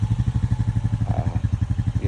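A Honda Rancher 420 ATV engine idles while it warms up, with a close, steady low-pitched chugging pulse in an even rhythm and no talking.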